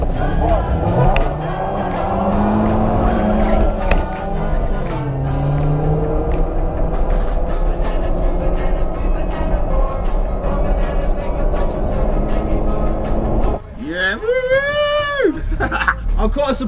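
A Honda Civic EG in a roadside drag race, its engine droning loudly and rising in pitch through the gears under constant rumble, with a higher wail from another passing engine near the end and people talking over it.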